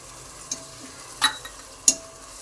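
A spoon stirs coriander powder into a quiet frying masala for egg biryani, giving three short, soft scraping strokes spaced about half a second apart over a faint background hiss.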